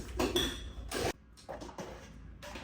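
A protein shake is mixed with water, giving bursts of close clinking and rattling against a container separated by brief pauses, with no talking.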